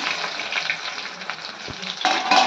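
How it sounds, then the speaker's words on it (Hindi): Onion going into hot oil already holding fenugreek seeds, cumin and curry leaves, setting off a lively close sizzle that swells and crackles, with a soft knock and a louder burst near the end. "अब इसमें मैं प्याज डालूंगी"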